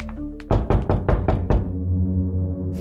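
Several firm, evenly spaced knocks land on a wooden bedroom door, close and loud, followed by a quiet pause.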